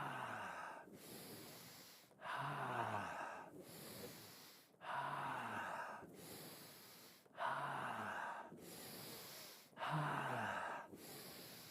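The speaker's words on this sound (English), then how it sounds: "Deeper breath, 30 more seconds." Deep, slow breathing during guided breathwork: five long, close inhale-exhale cycles at an even pace, each breath loud and airy with a slight snort-like catch at the start, no talk.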